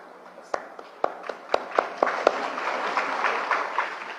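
Hand clapping at a devotional Christian gathering: a run of sharp, evenly spaced claps that speeds up slightly, then gives way to soft, blurred applause-like clapping over a steady low room hum.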